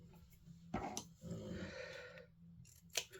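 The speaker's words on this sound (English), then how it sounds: "I'm using these scissors because they're already glued up" Scissors snip through card close by in a few quiet, crisp cuts, with short bursts of sliding blade sound between them and no talking.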